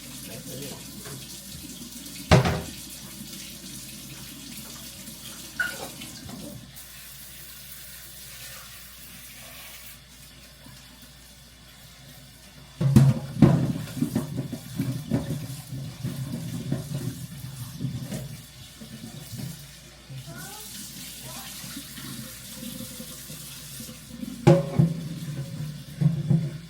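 Tap water running steadily into a kitchen sink during home cooking, a continuous rushing wash with louder surges partway through and a few sharp clatters.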